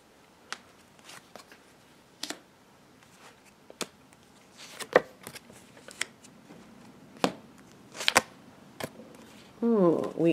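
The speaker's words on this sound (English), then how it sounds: "So just shuffling the cards right now." Tarot cards are shuffled by hand at close range, sparse irregular snaps and soft riffles with quiet pauses between them, and a voice cuts in briefly near the end.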